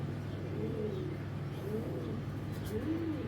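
Giribaz pigeons give repeated soft, rolling coos in a loose rhythm over a steady low hum, close by, with no talking.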